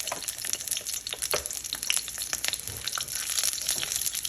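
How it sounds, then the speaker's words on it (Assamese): Garlic cloves fry in a little hot oil in a heated wok, a close, busy sizzle with bursts of crackling and some stirring scrapes, no voices. "নহৰুকেইটা মই অকণমান এনেকৈ ভাজি লৈছোঁ।"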